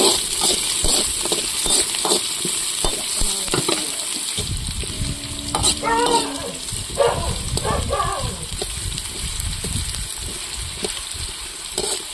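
Two finely chopped large onions dropped into hot oil for a kendai fish curry, a loud sizzle and crackle with stirring clatter and scraping, no talk over it.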